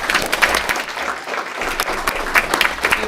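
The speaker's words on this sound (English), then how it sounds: "a round of applause." Applause breaks out at a school board meeting, a mid-sized audience clapping steadily for several seconds, with scattered sharper claps standing out near the end.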